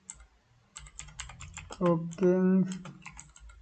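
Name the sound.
typing code on a computer keyboard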